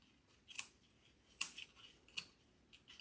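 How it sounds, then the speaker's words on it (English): Several crisp scissor snips trimming edges of a no-sew Halloween wreath decoration, spaced irregularly with short pauses between them, close up against a quiet background. "I'm going to cut off these little edges because I just don't like them."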